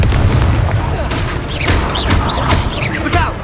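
Fiery Confringo spell blasts go off in a Hogwarts Legacy troll fight, several booming, crackling explosions in quick succession with short bursts of shouting over them.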